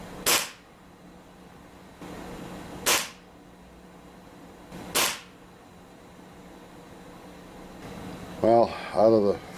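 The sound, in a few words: Ruger Yukon air rifle shots with JSB pellets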